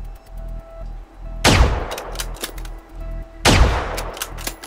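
Gunfire in the video game Generation Zero as the player shoots down machines: two loud, sharp shots a couple of seconds apart, each with a booming tail over a steady low game rumble and faint clicks.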